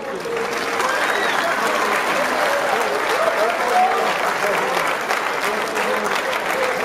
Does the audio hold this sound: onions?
no